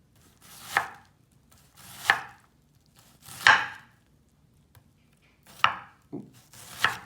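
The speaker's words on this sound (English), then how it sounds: "Nice fine slices, you're cutting straight." A kitchen knife cuts vegetables into fine slices on a cutting board: six crisp, separate chops spaced about a second apart, each a short bright knock, close and clear against near silence.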